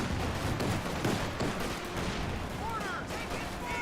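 Rifle squad gunfire in the Company of Heroes 2 strategy game rattles at close range: dense, continuous volleys of shots mixed with other battle noise throughout.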